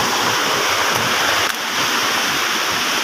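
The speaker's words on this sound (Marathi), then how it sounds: "धबधब्याला मात्र खूप पाणी आलं आहे" Heavy water flow from a waterfall in the Sahyadri hills near the Kalsubai trek, swollen with monsoon water, roars as a steady, dense, close rush with no pauses.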